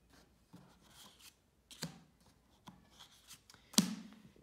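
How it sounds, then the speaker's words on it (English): Playing cards for a two-player maths game are handled, shuffled and dealt, giving a series of soft, separate slaps and riffles close by in a quiet room, with one sharper snap near the end. "Once the cards have been shuffled, deal two cards to each player."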